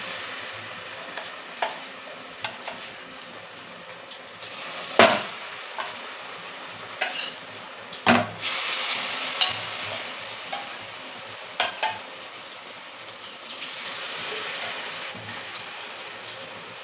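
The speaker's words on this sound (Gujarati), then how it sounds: "તો આપણે તેને ગોલ્ડન બ્રાઉન થાય ત્યાં સુધી તળાવવા જશું" Continuous sizzling and bubbling of potatoes deep frying in hot oil, with occasional louder crackles and stirring scrapes.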